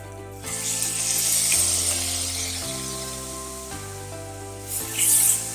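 Fried onion and a chopped tomato sizzle in a hot pan, a steady soft hiss that swells near the end, heard under light background music.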